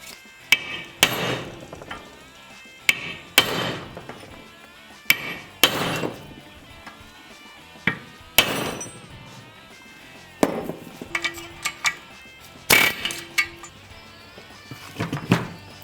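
Hammer blows on a chisel driving out a rear trailing arm suspension bushing on an A-body car, sharp metallic strikes in irregular bursts, some doubled, spaced a second or two apart, close and loud with no talk.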